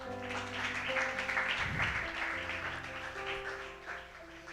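A church congregation claps together, soft and steady, blended under warm worship music that carries throughout.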